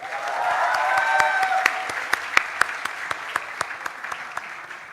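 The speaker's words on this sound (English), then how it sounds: "let's have a round of applause for ourselves" Graduates at a 2022 graduation ceremony applauding themselves: dense clapping that swells then thins into scattered sharp individual claps near the end.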